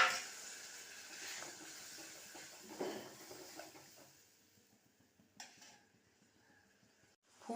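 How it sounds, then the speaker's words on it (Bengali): Water splashes into hot oil in a pan while prawn curry cooks, setting off a loud, broad sizzle that fades over several seconds, with a few utensil knocks and a sharp clatter near the end. "তেল ছেড়ে এসছে, এবার জল ঢেলে দিলাম।"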